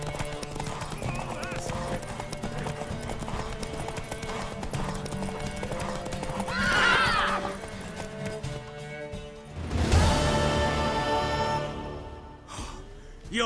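A mare in The Witcher 3 clip-clops steadily with hooves on ground, then whinnies loudly, while game characters talk over the hoofbeats.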